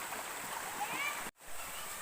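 A hose pours a steady rushing stream of water into a swimming pool, close and constant with a brief cut-out midway, while a voice is faintly present.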